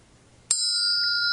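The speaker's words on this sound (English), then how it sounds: "bell sound" A single bright bell strike rings out sharply, then a clear, steady metallic tone sustains and shimmers without fading, loud and close, alone with no voices.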